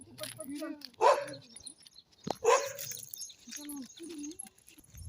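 A lame dog barks a few times, loud and close, in short bursts, while people talk nearby.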